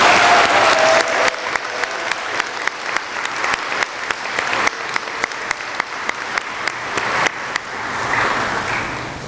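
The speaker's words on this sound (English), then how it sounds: "And we'll give them a round of applause." An audience claps for eighth-grade graduates at a preview graduation ceremony, a full burst of applause that thins into sparser, distinct claps before swelling slightly again.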